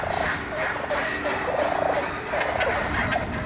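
Wild turkeys gobble and cluck around a decoy on a fall hunt, several birds calling in overlapping bursts at moderate distance against a steady outdoor background.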